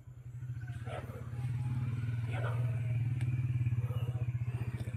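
A motorcycle engine idles and putters nearby with a steady low throb, rising slightly, while people talk faintly in the background.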